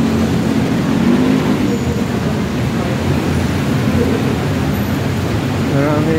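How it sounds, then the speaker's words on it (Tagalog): Riding in a motorized tricycle on the road, a loud close engine drone with rattling and rushing road noise throughout, a voice briefly audible over it. "Sakay ulit tayo ng tricycle."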